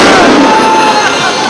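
Fireworks bursting at an evening symphony show, heard from far away as a dense, loud wash of crackle and rumble with a crowd cheering nearby.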